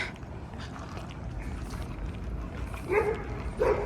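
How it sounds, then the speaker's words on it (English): A dog on a downtown Toronto city street barks twice in quick succession near the end, moderately close, over steady traffic and street ambience. "Oh, this dog wants to play with one."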